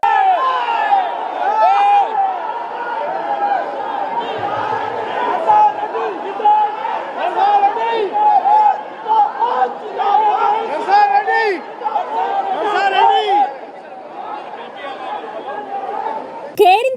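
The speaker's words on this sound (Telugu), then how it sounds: "వేదికపైకి తూంకుంట నర్సారెడ్డిని పిలవాలంటూ ఆయన వర్గీయులు నినాదాలు చేశారు" Party supporters at a political gathering in a hall shout slogans together, a dense crowd of raised voices with chanting bursts and overlapping yells throughout, loud and close.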